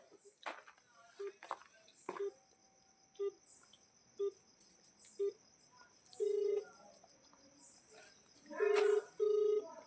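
Keypad tones from a phone being dialled beep one at a time at an uneven pace, followed by longer paired tones near the end, heard quietly with faint voices and background hiss.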